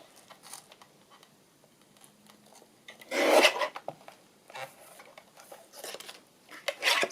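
Paper is trimmed for a Christmas journal with soft scraping and rasping cuts, one louder burst of rubbing in the middle and a few quieter scrapes after, close and alone.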